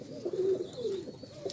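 Domestic pigeons kept for flying give a short, soft cooing call. A few low, rolling coos sound close by but quietly, with no talk.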